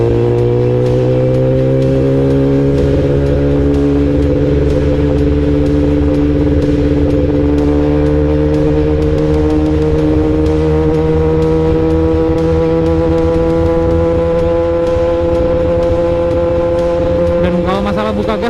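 Kawasaki ZX636 and ZX10R sport motorcycles under acceleration, a loud continuous engine drone whose pitch climbs steadily through the gears, heard close and unbroken for the whole stretch.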